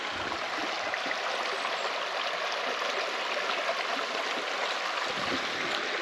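Clear Creek rushes steadily past in a continuous, even wash of flowing water, close and constant throughout with no voices.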